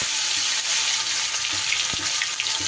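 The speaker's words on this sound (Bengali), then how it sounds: "ওলের টুকরোগুলো দিয়ে খুব ভালো করে নাড়াচাড়া করে বেশ ঢেকে ঢেকে ভেজে নিতে হবে" Chunks of elephant foot yam fry in hot oil with a steady, dense sizzle, broken by a few soft scrapes and knocks as they are stirred, close by and with no voices.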